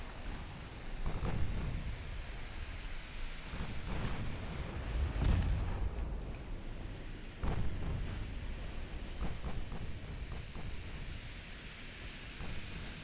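Battleship naval guns fire in the video game Ultimate Admiral Dreadnoughts, heavy booms landing over a steady roaring wash of sea and battle noise, with a louder blast near the middle and another a little later.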